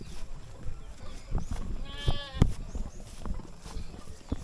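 A goat lets out a wavering bleat nearby, with a second shorter call, over shuffling hooves and rustling outdoor noise.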